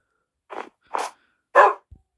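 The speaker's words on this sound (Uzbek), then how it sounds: "Itlar ko'paydi." A dog gives three sharp barks a moment apart, close and clear against near silence, followed by a brief low thud.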